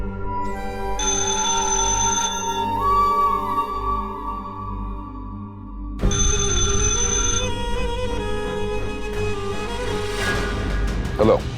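A telephone rings in two bursts of trilling bell tones separated by a pause, moderately loud over a background music score and low rumble in a TV drama scene.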